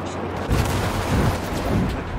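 An explosion pack blows up in the WW2 shooter game Enlisted, giving a heavy, rumbling boom with rolling low-end echoes that stay loud and dense through the whole burst.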